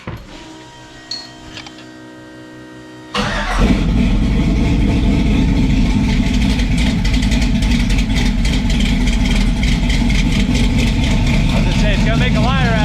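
A low car's engine running loud and close, kicking from near-silence into a steady rumbling idle that holds throughout with the revs gradually settling down.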